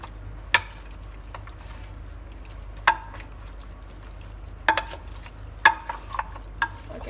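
Spoon stirring a pot of chicken and mutton karahi, Karachi street style: a handful of sharp scraping clacks at irregular intervals, clustering toward the end, over a quiet low hum with no talking.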